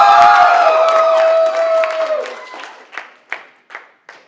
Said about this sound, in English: Okay, like a little bit of a clap. Everyone do it.